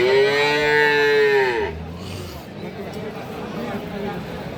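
A calf or cow at a Bangladeshi cattle market (Aftabganj haat) gives one long, loud, close moo for nearly two seconds, then fades into the steady murmur of the market crowd.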